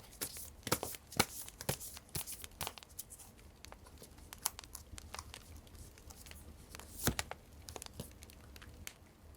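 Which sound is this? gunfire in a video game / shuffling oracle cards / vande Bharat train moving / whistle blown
shuffling oracle cards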